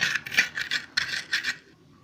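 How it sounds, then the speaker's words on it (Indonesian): Coriander, candlenut, ginger and coarse salt are ground into a spice paste by hand, with quick, uneven rasping strokes that trail off near the end. "ketumbar, kemiri, dan sedikit jahe. Kemudian kita haluskan."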